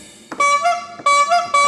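An SV800 keyboard's beatbox pad fires three punchy hits, each a buzzy, tonal synthetic thump spaced about half a second apart, loud and close.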